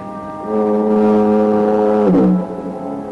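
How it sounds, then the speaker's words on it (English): A foghorn moans at the point near San Quentin Prison in an old radio mystery drama: one long, loud, low droning blast that holds steady and then bends and fades, alone without speech. "the monotonous moan of the foghorn down at the point near San Quentin Prison"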